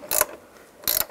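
Ratchet snugging door hinge bolts on a 2007-13 Chevy Avalanche: two short, close bursts of rapid clicking, separated by a brief pause.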